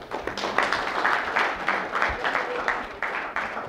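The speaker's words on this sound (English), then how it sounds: "Give her a big round of applause." A studio audience gives a short round of applause at a live healing seminar, with steady, moderately loud clapping running throughout and a faint voice underneath.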